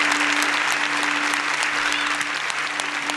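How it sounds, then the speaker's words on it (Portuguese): A full audience claps continuously in a dense, steady roar of applause, with no gaps, while a low electrical hum runs underneath the whole stretch. "Vamos aplaudir de novo?"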